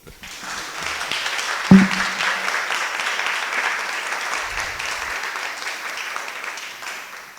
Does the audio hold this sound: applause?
yes